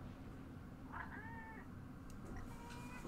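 A single drawn-out meow from a cat, faint against a constant low background hum, followed by a few soft clicks.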